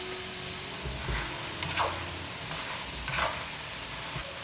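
Sachima dough strips deep-frying in oil heated to medium-hot, a steady soft sizzle and bubbling throughout with a few brief louder crackles, fairly close and with no talking.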